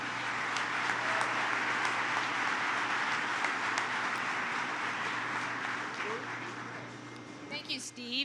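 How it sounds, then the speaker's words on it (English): An audience at a General Motors investment announcement in Tonawanda applauds in a sustained, moderately distant wash of clapping over a steady low hum, thinning out near the end. "So give her a round of applause,"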